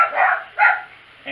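A person imitating a dog's barking with their voice, three short yelping bursts spaced apart, close and fairly loud.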